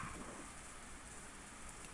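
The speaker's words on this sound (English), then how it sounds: "Only the sound of rain filled this tense moment." Rain sound effect under an audiobook reading, a faint, continuous hiss of falling rain with no voice over it.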